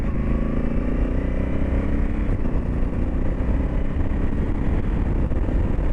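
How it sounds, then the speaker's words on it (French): A Honda motorcycle accelerates in first gear, its engine droning steadily with a gradually rising pitch, close and moderately loud, heard alone without talking. "là, je suis en première, j'accélère et je vais laisser accélérer"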